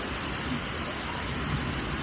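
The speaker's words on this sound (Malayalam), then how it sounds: "ഇടിയുണ്ട് ചെറുതായിട്ട് അടിപൊളി മഴ" Steady, dense rainfall pours down close by onto a house roof, with a faint low rumble of distant light thunder underneath.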